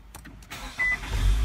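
A Nissan car engine starts inside the cabin with a brief starter whir and then catches into a low, steady rumble that settles into idle, with no talking.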